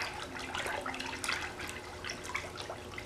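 Running water from a tap rinsing a seashell just pulled from muriatic acid, a steady splashing flow that continues alone and close for about three seconds.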